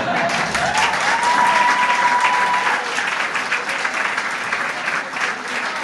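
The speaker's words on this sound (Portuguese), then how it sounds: "Porque o que eles gostam mesmo é de dar palmas." An audience at a university entrepreneurship and innovation course breaks into sustained, dense applause that stays steady and fairly loud, with faint voices mixed beneath it.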